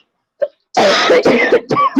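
A short throat sound followed by a harsh, rasping cough fit, several bursts in quick succession, loud and close.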